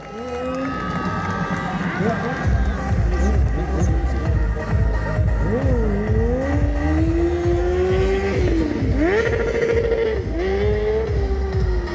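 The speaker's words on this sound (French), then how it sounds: "Allez, le wheeling au rupteur." Stunt car held in a wheelie at its rev limiter during a drag power show at Chambley, the engine bouncing off the limiter in a loud continuous rasping drone with wavering pitch, over crowd noise and an announcer talking.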